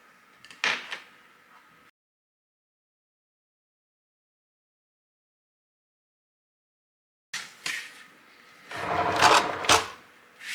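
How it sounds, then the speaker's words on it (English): Cricut cutting machine re-cutting a doormat stencil, giving short whirring and clicking bursts of carriage movement, a long silent gap, then a busier run of mechanical whirs and clunks. "So I'm going to hit my C button, and I'm going to cut this again."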